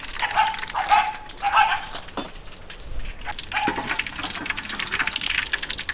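Mustard seeds, dried red chillies and cumin sizzle and crackle in hot oil in a pan, a steady bright spattering with scattered pops throughout, fairly close.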